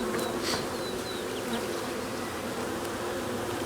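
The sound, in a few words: honeybees buzzing at production beehives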